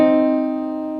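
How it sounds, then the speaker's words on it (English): Two guitar notes sounding together as a sustained minor third interval, plucked once and ringing steadily with a slow fade. "if you want to do the minor third interval"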